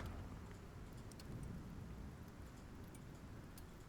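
A green storm in the video game Icarus: steady rain and a low rumbling wash of thunder, faint and continuous, with a few light crackles on top.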